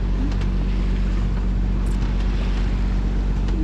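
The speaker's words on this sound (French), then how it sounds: "on n'a pas de vent et on est encore au moteur" A cruising sailboat runs under engine power in calm air on a passage from Girolata to Port-de-Bouc, with a constant low motor drone and light wind buffeting on the microphone.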